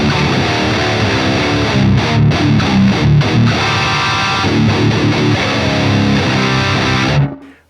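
Heavily distorted modern metal rhythm guitar through a boost distortion amp plugin with gain at 10, loud and continuous, with tight palm-muted chugs and sustained chords over about seven seconds before cutting off.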